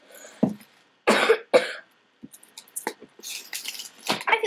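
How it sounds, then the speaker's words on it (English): A person coughs a few times, short sharp bursts spaced apart, close and fairly loud, followed by light handling and clicking noises, with no talking. "Just a little cough."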